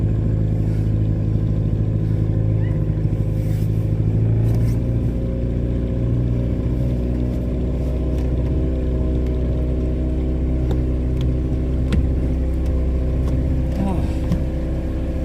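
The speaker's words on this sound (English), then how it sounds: "But listen to engine. Yeah. It sounds so much better." A canal boat engine chugs steadily at close range, a low continuous rumble with a few faint clicks on top.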